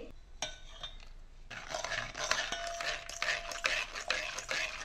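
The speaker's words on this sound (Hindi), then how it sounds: "प्यूरी हमारी पीस के तैयार है इसे अब हम छान लेंगे" A spoon scrapes and clinks against a metal strainer as tomato puree is pushed through it for tomato soup, giving irregular close scraping strokes in a quiet kitchen.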